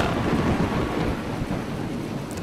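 A storm in the Roblox game A Dusty Trip brings a steady, loud rumble of thunder mixed with heavy rain, continuous and without talk.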